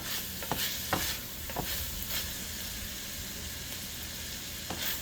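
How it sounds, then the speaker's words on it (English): Carrots and peppers sizzle steadily in a hot pan as they are stirred, with a few quick scraping strokes of the utensil standing out early over the constant close frying hiss. "To that, we're gonna add in our carrots and peppers. Give that a little stir."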